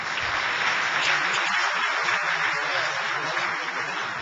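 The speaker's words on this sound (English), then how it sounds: "let's have a round of applause for him" Sustained, dense applause from a conference audience at a golden jubilee event, steady and full throughout without pause.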